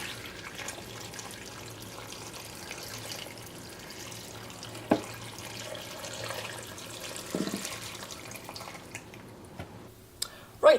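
Water runs into an Instant Pot pressure cooker full of chicken stock ingredients, a faint, steady trickle and splash lasting throughout with a few brief knocks near the end.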